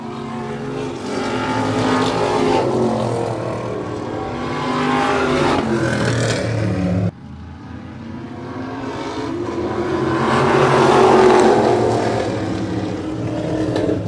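Race cars in a heat race on an oval track charge toward the checkered flag, a loud, continuous roar of engines that swells and fades as the pack passes, with no talking.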